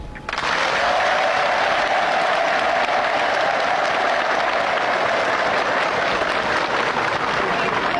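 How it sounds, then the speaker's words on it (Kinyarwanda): A large crowd at the Rwanda border applauds President Yoweri Museveni in 1986, with loud, dense, continuous clapping that swells quickly and holds steady throughout. "Abari batamuzi rero mwamubonye, nagira ngo mwongere mu amashyi."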